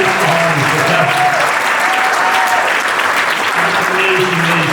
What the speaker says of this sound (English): So can we just give a round of applause?